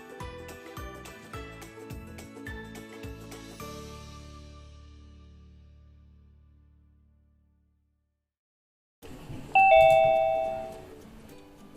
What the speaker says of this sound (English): That is the sound of our participant joining.